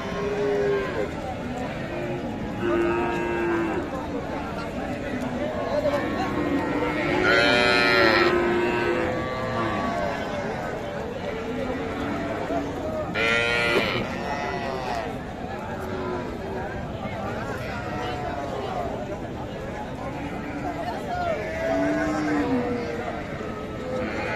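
Several cows moo repeatedly amid a busy crowd of people talking at a cattle market, with the lowing calls rising over the steady chatter.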